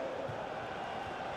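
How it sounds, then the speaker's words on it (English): Stadium crowd noise from EA FC 24 during a Premier League match between Manchester United and Fulham, a steady broad roar of many voices that holds at an even level throughout, with no clear peaks or individual shouts. "the crowd is certainly trying to motivate the team to push them forward to get the equaliser"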